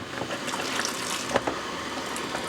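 Hot water from blanching savoy cabbage leaves is poured off, a brief liquid splash and trickle with a couple of small clatters, close and fairly quiet over a steady kitchen background hiss.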